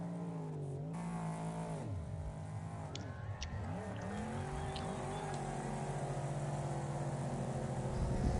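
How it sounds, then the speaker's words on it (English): Several race car engines in the video game Wreckfest rev and whine, pitches rising and dropping as the cars shift gears and accelerate, with brief tire squeals in a continuous synthetic roar. "Definitely hear the different tones of the car and who's on the gas and who's not."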